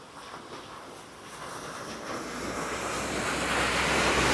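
Floodwater rushes across a highway during heavy rain, a broad, continuous roar like surf, with wind buffeting the microphone, growing steadily louder toward the end.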